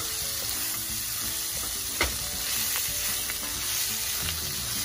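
Mango ginger shrimp stir fry with bell pepper sizzling steadily in a hot pan, a dense crackling hiss broken by a sharp utensil knock and a few lighter scrapes.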